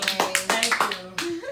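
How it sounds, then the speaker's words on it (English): A handful of people at a network marketing talk clap in a short, sparse round of applause, individual hand claps distinct and close, with voices speaking over them. "And so just give Elaine a round of applause again."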